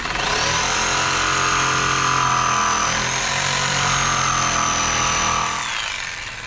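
Power tool, likely a saw, cutting an angled bevel into the deck extension of an old bass boat, a steady, loud whining cut that runs nearly continuously for about five and a half seconds before winding down.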